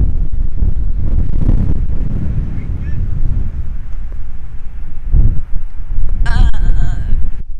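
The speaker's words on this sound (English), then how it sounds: "Friggin' wind out here is brutal." Strong wind buffets the microphone outdoors on an off-road trail beside a Jeep Gladiator, a loud continuous rumble with gusts throughout and brief voice sounds mixed in.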